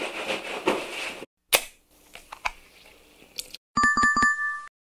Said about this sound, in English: Sound is opening soda can and pouring.